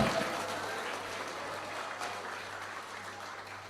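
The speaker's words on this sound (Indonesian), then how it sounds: "Aplaus meriah untuk Pak Rocky Gerung" An audience gives a round of applause for Rocky Gerung: dense, continuous clapping that tapers off slightly toward the end, with no one speaking over it.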